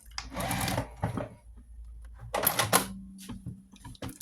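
A sewing machine stitches a back tack on homemade table mats: short bursts of rapid mechanical whirring with brief pauses between runs, close and clear, no talking.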